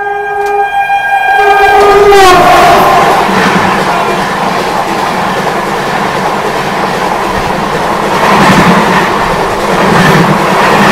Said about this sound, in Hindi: अहमदाबाद जाने वाली एक्सप्रेस प्लेटफॉर्म क्रमांक 3 पर